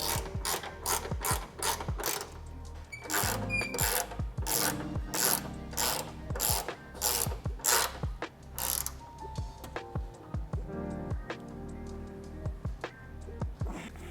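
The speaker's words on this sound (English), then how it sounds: "Now we're gonna go ahead and tighten down the 2 Torx bolts into the bed." Ratchet clicking in quick repeated bursts as two Torx bolts are tightened into a Toyota Tacoma truck bed while bed stiffeners are installed, close and loud with brief pauses between strokes and no talking.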